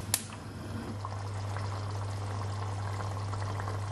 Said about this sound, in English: Let's pour the nacho cheese inside.